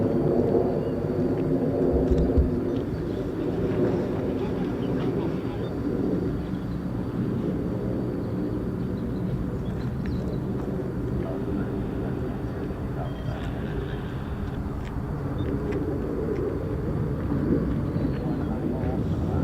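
A tanker aircraft passing high overhead near an RAF base, a steady distant jet rumble and roar that holds throughout, broad and unbroken.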